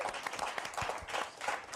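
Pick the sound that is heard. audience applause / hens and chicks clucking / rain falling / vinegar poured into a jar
audience applause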